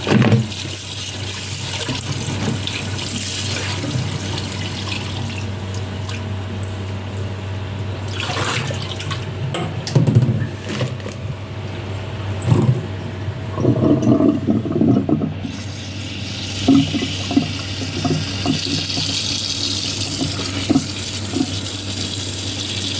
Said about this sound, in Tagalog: Hugasan ko pa ng paulit-ulit yung mushroom.